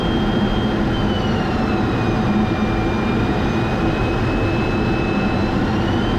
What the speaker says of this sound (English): when he lands here, he's going to use a lot of aerodynamic braking